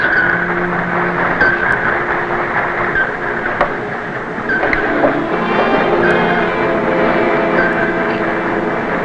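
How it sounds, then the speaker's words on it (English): A dense, continuous mechanical churning drone with rhythmic thrumming and occasional clicks from warship and aircraft carrier propeller screws passing directly overhead, heard from a submarine, steady and fairly loud throughout. "Screws passing directly overhead."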